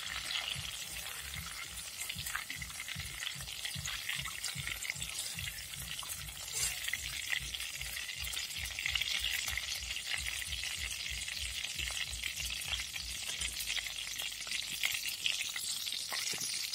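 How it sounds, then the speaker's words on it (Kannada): Raw banana slices frying in hot oil after salt water is splashed in: a dense, steady crackling sizzle, close and even, with faint stirring and rhythmic low thumps under it for most of the stretch and no talk. "ಉಪ್ಪು ನೀರು ಹಾಕುವ ಸೌಂಡ್ ಬರ್ತದೆ"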